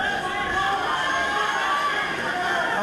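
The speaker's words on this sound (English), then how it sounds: "I can hear the crowd, some of the crowd shouting 10 seconds left" Dense crowd noise at a cage fight, a continuous babble of shouting and chatter from many spectators that holds steady for a few seconds.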